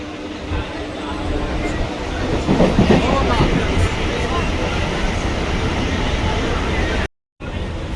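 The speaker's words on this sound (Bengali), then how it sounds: "আমরা নন্দকুমার থেকে আমরা ট্রেন ধরবো" A passenger train runs from Nandakumar toward Digha, with loud continuous rumbling and rattling of carriages, a swell of clatter midway, and people talking underneath before a sudden brief cut to silence near the end.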